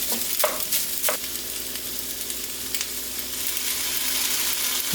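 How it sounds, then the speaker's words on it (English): Rice fries in a pan over an ackee and saltfish base, giving a steady close sizzle broken by a few sharp scrapes and pressing strokes as it is squished down. "here's where I'm going to add my rice, and I'm just going to squish it down"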